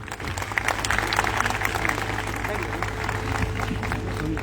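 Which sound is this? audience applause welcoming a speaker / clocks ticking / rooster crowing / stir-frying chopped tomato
audience applause welcoming a speaker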